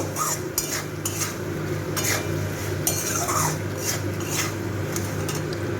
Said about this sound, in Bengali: এই সব মশলাগুলো একটু মিশিয়ে নেব।